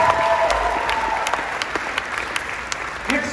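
Audience at a Fox High School band seniors recognition in 2022 claps steadily for a graduating senior, a sustained crowd applause with sharper individual claps near the end.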